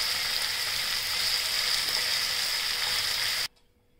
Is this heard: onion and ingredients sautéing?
yes